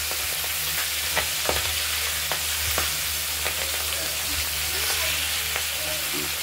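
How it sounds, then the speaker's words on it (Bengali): Rohu fish head frying in hot oil, a steady crackling sizzle with sharper pops and occasional stirring clinks, close and continuous without talk. "মাছের মাথাটাকে আমরা ভালো করে তেলে ভেজে নিচ্ছি।"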